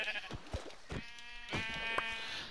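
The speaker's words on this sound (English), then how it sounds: "Ooh, sheep." Sheep in the Minecraft video game bleat in a few short wavering calls, fairly faint, with a light tapping of game sounds around them and no talk.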